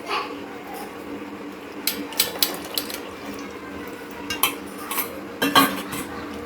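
Patra batter being mixed with lemon juice, giving scattered clinks and scrapes of a utensil against a bowl, louder in the second half, with quiet kitchen background and no talk.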